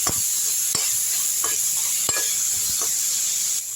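Tomatoes sauté in a hot pan for spicy chutney, with a steady close sizzle and several sharp scrapes and stirring knocks of a spoon, no voices.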